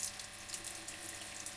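A newly replaced RV water pump in an Aliner camper pushes water through the tap, a faint, steady hiss of running water from the faucet with nothing else over it.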